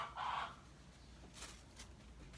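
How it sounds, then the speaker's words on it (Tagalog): Noisy chickens nearby let out a loud squawking cluck, followed a moment later by a couple of fainter clucks over a quiet rural background. "Huwag nyo lang pansinin yung manok dyan na napakaingay talaga."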